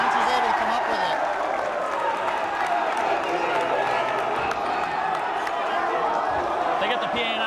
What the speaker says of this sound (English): They get the PA announcer here, but I can't barely even hear him over the crowd.